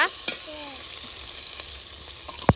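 Garlic paste frying in hot oil with vegetables and chicken, a steady close sizzle and crackle throughout with a few stirring clinks and a sharper pop near the end.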